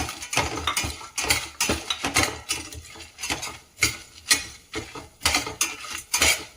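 Whole spices (cumin, cinnamon, cloves, cardamom, coriander seeds, dried chillies) stirred in a pan over medium heat, with repeated close metallic scraping and clinking of a utensil against the pan in an uneven rhythm, no voices.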